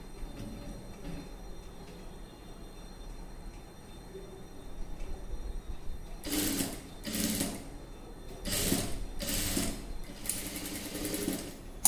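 Sewing machine stitching a dress neck design, several short bursts of rattling, clattering needle runs starting after a quiet stretch, loud and close with brief pauses between.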